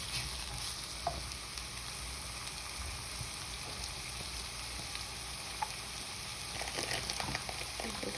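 Vegetables for a veggie lasagna sautéing gently in a pan over moderate heat, giving a soft, even sizzle with faint scattered pops and stirring clicks, no voices.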